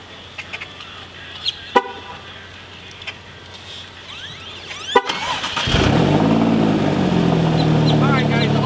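Alfa Romeo Giulia Quadrifoglio engine catches on auto start after a few quiet clicks and knocks, then settles into a steady close idle rumble for the rest.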